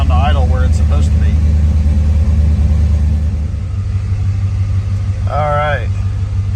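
A 1982 Chevrolet Corvette C3, fitted with a swapped 1984 ECM, idles at operating temperature in park with a steady low rumble close by. Someone talks briefly over it at the start and again near the end.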